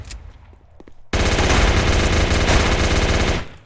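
Sustained automatic gunfire from an SRM weapon in a competitive video game match, starting abruptly after a quiet stretch with a few faint clicks, then a loud continuous rattling burst of about two seconds that cuts off sharply.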